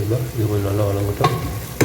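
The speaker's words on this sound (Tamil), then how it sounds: "இது கொஞ்சம் நல்லா வதங்கட்டும்" Mutton biryani masala sautéing in a pan for Dindigul-style biryani, with a low steady sizzle under scraping stirs and two sharp utensil clinks near the end.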